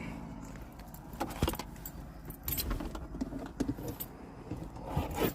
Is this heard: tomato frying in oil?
no